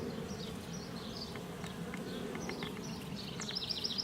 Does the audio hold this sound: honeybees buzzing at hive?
yes